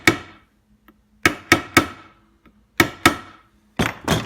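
A small bolt is tapped with a hammer into a homemade no-roll fishing sinker mold, giving sharp, close metallic taps in three quick bursts of two or three strikes, with short silences between.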